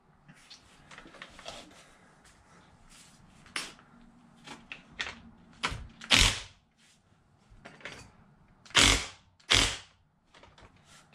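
Screws tightened on a rover chassis by hand, a series of irregular ratcheting clicks and creaks, quiet with a few louder bursts, close up and with no speech.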